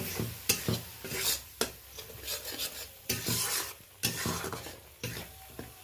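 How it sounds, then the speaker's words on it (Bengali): Ground chili, turmeric, cumin and coriander powders are stirred in hot oil in a pan for a prawn and ridge gourd curry, with repeated scraping strokes over a steady close sizzle and no talk. "এটা ভালো করে মিশিয়ে নেব।"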